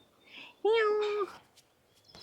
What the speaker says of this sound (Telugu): అక్కడ పైన పిల్లి గారు ఓ పిల్లి పిల్లలు బోల్డ్ ఉన్నాయి